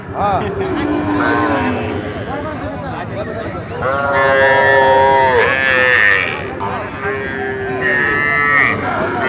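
Cattle at the Ambari livestock market in Dinajpur give long, loud, close moos, several overlapping calls one after another, with people talking and bargaining underneath.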